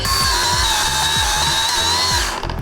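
A cordless Ryobi angle grinder runs at a steady, loud high-pitched whine, close by, and then begins to falter near the end as it stalls.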